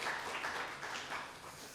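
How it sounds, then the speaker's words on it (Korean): A church congregation at a Sunday service claps in celebration of members' birthdays: soft, fairly distant applause, a brief spatter of hands that fades toward the end. "축하 박수 한번 하겠습니다"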